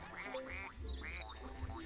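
Cartoonish duck quacks from the Viva Piñata video game, several short nasal calls in quick succession over a soft game-music background, with no talk.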